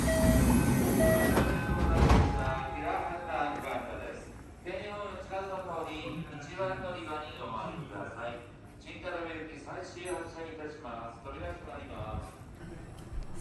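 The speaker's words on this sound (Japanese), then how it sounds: "次に乗る電車は橿原線大和西大寺方面最終列車、普通新田辺行きです。" A Kintetsu Kashihara Line local train, the last service toward Yamato-Saidaiji bound for Shin-Tanabe, rumbles loudly at first, then runs on as a steady background roar while a voice speaks over it.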